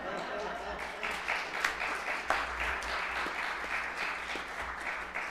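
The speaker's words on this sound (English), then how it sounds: "You can clap." Congregation at a Unitarian Universalist Sunday service clapping together, a steady bed of applause with occasional sharper claps standing out, somewhat distant and continuous.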